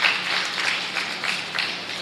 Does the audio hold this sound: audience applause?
yes